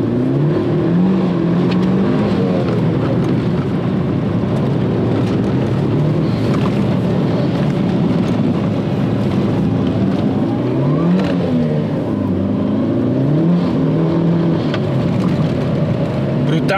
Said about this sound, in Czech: Brutálně se to sbírá to auto